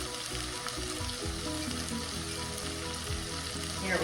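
Oil sizzles and crackles steadily in a pan as onion and tomatoes fry for meatless cheesy eggplant rolls, a dense continuous hiss close up with no talking.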